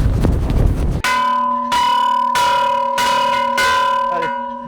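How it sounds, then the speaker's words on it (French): A large temple bell in Japan rings four times in slow succession, each stroke loud and close with a long humming decay that overlaps the next, after a burst of wind and rustling at the start. "Sonnons la cloche."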